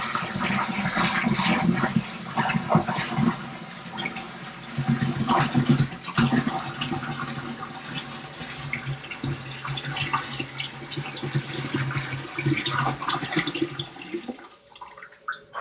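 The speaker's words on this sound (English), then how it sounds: "I'm going to take first bottle of spring water. I'm going to pour it in." Spring water pours steadily from a bottle and splashes into a home-brew hard seltzer fermenter for a long stretch, gurgling close by, then cuts off near the end.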